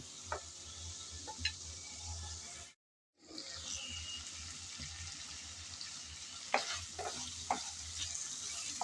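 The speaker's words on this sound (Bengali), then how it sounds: "কিছুক্ষণ সময় ধরে আমি টমেটো ভালোভাবে কষিয়ে নিলাম" Tomatoes and spices are sautéed in a pan for a winter vegetable fish dish, a low steady sizzle with occasional scraping stirs, close and quiet, briefly cutting out before resuming with a few sharper clinks.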